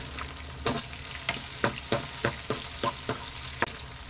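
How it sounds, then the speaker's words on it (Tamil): Onions and crushed garlic sautéing in a pan for a sardine curry, a steady sizzle with a series of sharp spatula scrapes and taps recurring about every half second. "வெங்காயத்தை நல்லா வதக்கிக்கலாங்க கண்ணாடி பதம் வர வரைக்கும் வதக்கிக்கலாம்"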